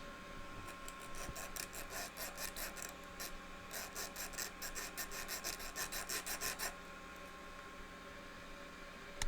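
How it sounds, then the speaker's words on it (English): A small metal file rasps back and forth across a part of a Game Boy Advance SP during a USB-C mod to flatten it, a steady run of close, rhythmic scraping strokes with brief pauses and no talking. "I've just got a little metal file, so I'm just basically going to set this down on top and move it back and forth"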